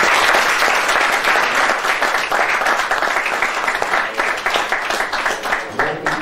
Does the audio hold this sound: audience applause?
yes